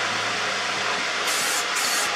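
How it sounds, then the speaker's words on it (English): An aerosol can of matte black spray paint hisses in short bursts, close by, over a steady background hum. "Give it a quick spray"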